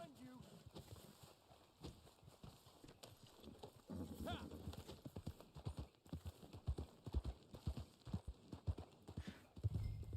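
Horse hooves clip-clop steadily in Red Dead Online, a continuous rhythmic trot running the whole stretch, moderately close, with faint voices talking underneath.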